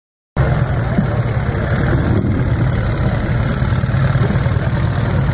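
A 1950 Sunbeam S8 500cc motorcycle engine starts abruptly and settles into a loud, close, steady idle with an even low throb, continuing without a break for several seconds.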